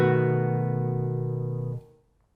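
A guitar chord fretted with open strings ringing, strummed once and sustaining steadily for nearly two seconds before being damped, played alone with no talking.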